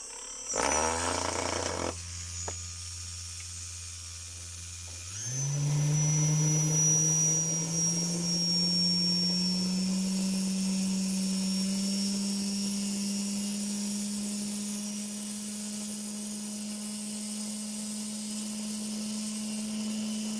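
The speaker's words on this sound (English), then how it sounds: "now that I have tested with this motor, which is a brushless motor with a 4mm pin" A brushless motor with a 4 mm shaft, driven by a Hobbywing Skywalker 40A ESC on a 2-3S LiPo, beeps and chirps at startup, then whirs up in steps to a steady high-pitched whine that holds alone.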